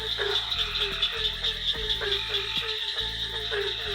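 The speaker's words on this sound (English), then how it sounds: "This is the pine woods tree frog." A pine woods tree frog in the North Carolina Sandhills gives a loud, close series of rattling, croaking pulses, repeating roughly every second against a steady high insect-like buzz.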